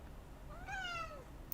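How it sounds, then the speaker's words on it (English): A house cat meows once, a single rising-then-falling cry of about half a second, fairly close and clear over a quiet indoor background. "my cat is demanding attention."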